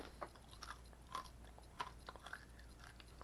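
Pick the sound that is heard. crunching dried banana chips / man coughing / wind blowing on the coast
crunching dried banana chips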